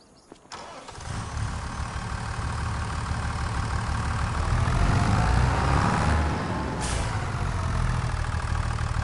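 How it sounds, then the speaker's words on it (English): A tractor engine in a farming video game starts up and settles into a loud, rumbling, continuous run close by, with no talking. "Let's grab our other tractor."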